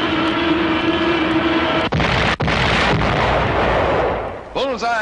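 Bat glider bomb explosion in Battlefield 5, a long, loud, roaring blast rumble with a couple of sharp cracks, fading near the end as a voice begins speaking.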